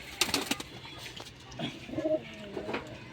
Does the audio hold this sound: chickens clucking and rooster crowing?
no